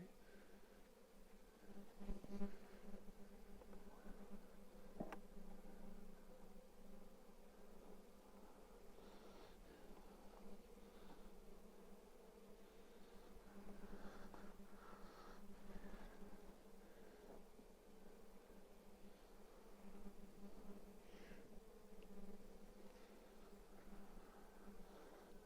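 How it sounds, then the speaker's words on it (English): Honey bees hum in a continuous, faint buzz during an early-season hive inspection and box rotation, with occasional soft rustles and handling noises near the hive. "get some of these bees off the end there"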